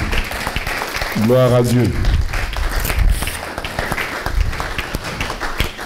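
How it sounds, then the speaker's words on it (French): Audience applause at a church honorary-title ceremony for women servants of God, steady clapping under loud talk and a brief sung or chanted phrase, moderately close. "Applaudissons fort."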